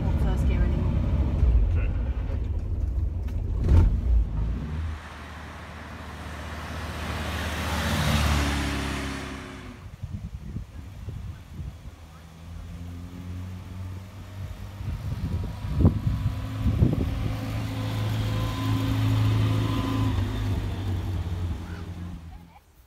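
A 1970 Morris Minor drives along with its engine running, a steady low hum with rising and falling rev swells and road noise, close by, while people talk over it inside the car.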